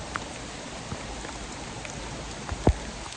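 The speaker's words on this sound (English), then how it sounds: "It's different when you do the hike in the rain like this." Rain falls steadily during a hike in the Red River Gorge near a creek, a soft continuous patter of drops with a couple of brief close taps, no talking.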